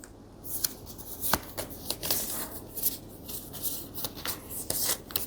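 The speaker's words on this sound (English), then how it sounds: "Shuffle the event cards and place them face down in a pile" Close, crisp riffling and flicking of playing cards being shuffled, with several quick bursts and soft rubbing between them.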